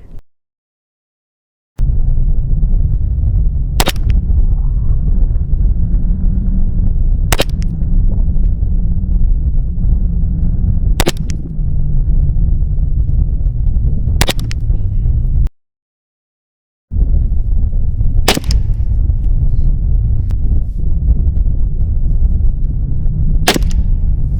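A 300 Blackout rifle with a red dot sight fires in a 100 m precision test with subsonic and supersonic ammunition: six loud, sharp shots spaced a few seconds apart, each trailing into outdoor ambience, with a brief silent gap midway.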